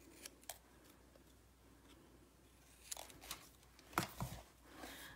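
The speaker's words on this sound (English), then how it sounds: "I'm just going to cut those off." Scissors snip through small die-cut card embellishments in a quiet crafting space, a few faint scattered cuts followed by two sharper closer snips near the end, with no talking.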